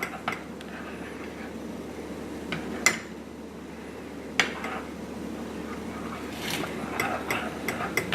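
A spoon stirs almond butter with a little coconut or sunflower oil in a bowl, giving soft scraping and a few sharp clinks against the bowl at scattered moments.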